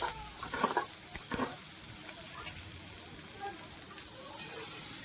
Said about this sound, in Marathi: कांदा परतवताना यात थोडा तेलाचा वापर करायचा आहे आणि मस्तपैकी कांदा परतून घ्यायचा आहे.